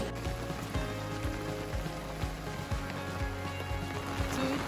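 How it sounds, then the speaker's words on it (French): Rain falls steadily in Mauritius, a dense, even hiss and patter close by with no voices. "Toute la pluie tombe sur moi, des fois."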